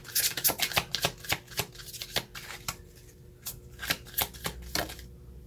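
Playing cards are shuffled and riffled close up in a quiet room, a fast run of crisp flicking bursts and slaps that comes in uneven clusters across the moment, with no talking.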